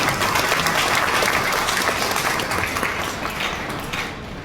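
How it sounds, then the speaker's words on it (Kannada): Dense, steady applause from an audience at a Navarathri Gollu display event, loud and continuous, tapering slightly toward the end. "ಎಲ್ಲರಿಗೂ ಒಂದು ದೊಡ್ಡ ಚಪ್ಪಾಳೆ"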